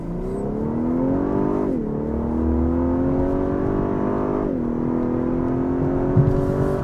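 A 2020 Lexus LS500 with a 3.6-liter twin-turbo engine, in Sport Plus mode, accelerates hard from inside the cabin. The engine drone climbs steadily through two gear shifts, loud and continuous, with no talking.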